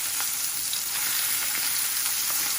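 Fish sizzles steadily in a hot pan while cooking for fish tacos, a continuous close crackle of frying oil with no voices.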